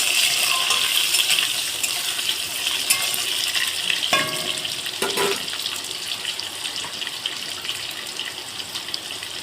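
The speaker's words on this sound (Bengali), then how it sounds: "তারপরে কিছুটা আলুগুলো ভালো করে ভেজে নেব" Potatoes fry in a pan with panch phoron spices for a fish curry, a constant close, bright crackling sizzle with a few sharp clinks partway through.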